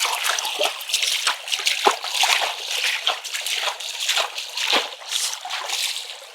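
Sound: water flowing in irrigation channel

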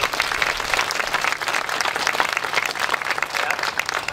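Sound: audience applause

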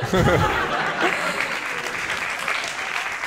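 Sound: audience applause

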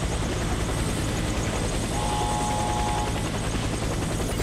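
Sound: helicopter in Warface tutorial, video game

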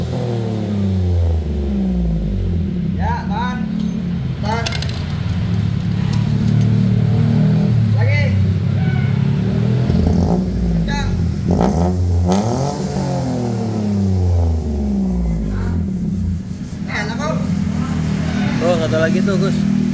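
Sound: Daihatsu Ayla car engine revving with HKS racing exhaust

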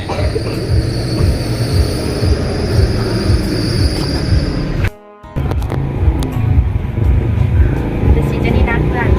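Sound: motorcycle engine revving

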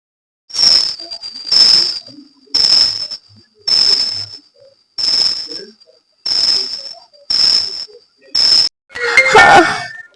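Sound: phone ringing late at night

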